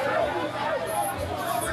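Crowd chatter on Trio Street, Lagos Island, where a large crowd queues for 100 naira bread; a steady babble of many voices carries on throughout.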